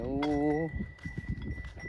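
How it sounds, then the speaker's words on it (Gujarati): Kankrej cows move slowly in a line along a rural path in the morning; one low moo opens, followed by soft, irregular shuffling and hoof sounds at moderate distance. "બધી ગાયો એકદમ ધીરે ધીરે આવે છે, એક લાઈન ટુ લાઈન"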